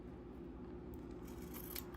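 Scissors snip through fabric at the zipper tabs of a sewn zipper pouch, a faint, brief cut heard alone in a quiet room.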